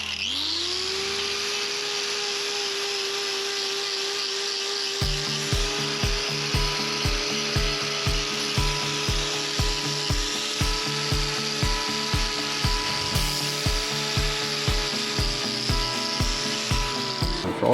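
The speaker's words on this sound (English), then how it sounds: "which we need to just take away with the grinder." A power grinder trims loose horn from a horse's hoof, a steady high whine that shifts into a rapid, regular chattering rasp as it bites the horn, loud and close, with no speech.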